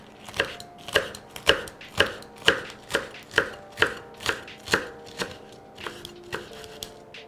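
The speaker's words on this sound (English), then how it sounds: "You want to keep cutting, get it nice and chopped." A knife chops rolled Swiss chard leaves on a cutting board in a steady, even rhythm of about fifteen crisp, close taps with no talking.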